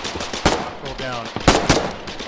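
Gunfire in the war game Foxhole cracks out in several loud, close bursts of rapid shots, with a voice briefly audible between them.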